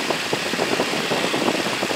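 A light airplane's piston engine runs at steady run-up power during a magneto check, a loud, continuous throbbing drone with a slightly uneven pulsing texture, close up and without pauses.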